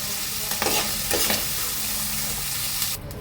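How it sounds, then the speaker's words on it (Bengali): Fried freshwater snails are stirred and scooped out of a hot oily pan: steady sizzling with a few scraping strokes near the start, close and continuous, with no voices. "গেরিগুলো আমার ভাজা হয়ে গেছে। এবার আমি খাতায় করে তুলে দিচ্ছি।"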